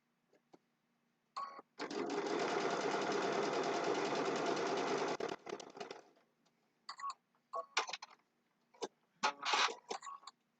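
A foot-pedal sewing machine stitches a quilt block seam in one steady run of about three and a half seconds, then gives a few short bursts of stitching with pauses between them, fairly quiet and close.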